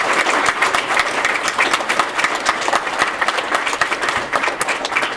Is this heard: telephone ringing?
no